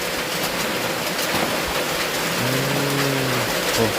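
Rain pours around a Thai temple in a steady, loud wash of hiss, with a low rumble beneath it and a short sustained tonal sound emerging in the second half before fading back into the downpour.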